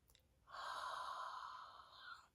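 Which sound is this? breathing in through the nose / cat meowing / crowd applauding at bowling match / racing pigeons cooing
breathing in through the nose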